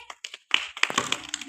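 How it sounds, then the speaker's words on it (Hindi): A handful of children clap in a classroom after a storytelling lesson, giving short, uneven bursts of close, sharp hand claps with brief gaps between them. "सब बच्चे ताली बजाओ इसके लिए।"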